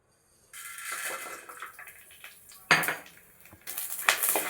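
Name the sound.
roasting garlic and black pepper in a hot pan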